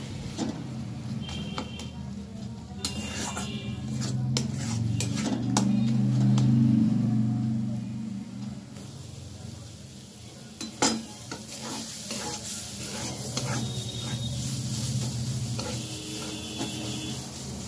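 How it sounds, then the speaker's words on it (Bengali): Banana flower curry with coconut paste is dry-fried and stirred in a pan. Repeated scraping and clatter of the spoon sound over a low, steady sizzle and hum for a long stretch. "এইভাবে আমি নেড়ে নেড়ে একেবারে শুকিয়ে নেব।"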